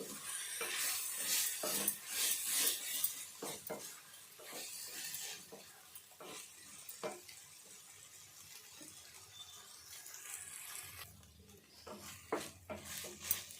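Dried fish and tomato curry stirred in a pot, with a spoon scraping and clinking against the metal in irregular strokes, a soft simmering sizzle underneath, close and moderately quiet, no voices.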